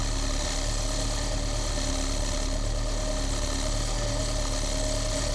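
A Ford/Volkswagen Autolatina fuel-injected car engine idles steadily during a dynamic idle air actuator test run from a scan tool, a continuous loud droning hum with low vibration and no talk.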